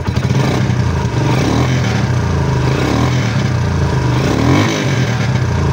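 A motorcycle engine revved steadily to show it runs without misfiring, a loud continuous mid-pitched drone with slight rises in pitch that fills the whole stretch, no talk over it.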